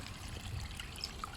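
Filtered water trickles through a small stream back into a natural garden pond, a soft and steady babbling with faint bright splashes, heard close up with no one speaking.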